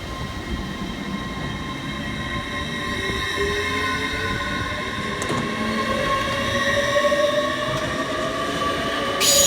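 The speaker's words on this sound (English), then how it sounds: "we see the departure of 802-219 working the 1218 Trainspotting Express service from Newcastle through to Liverpool Lime Street" A Lumo class 802 train pulls out of Durham station, its wheels and motors giving a steady rising hum that grows louder through the passage, with a faint screech from the rails, and no one speaking.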